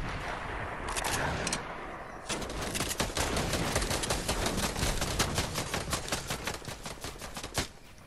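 Rapid, dense gunfire crackles through a Fortnite match, with a quieter stretch at first, then sustained bursts of shots running loud and continuous to the end, one sharp crack standing out near the close.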